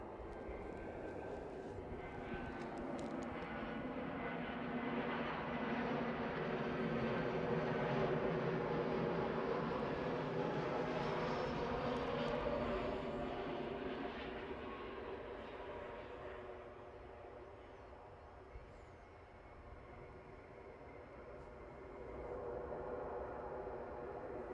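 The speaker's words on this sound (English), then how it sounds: "Right, EasyJet next in." An EasyJet airliner arriving at Edinburgh airport from Belfast, a broad jet roar that swells and then fades away, heard at a distance and growing quieter toward the end.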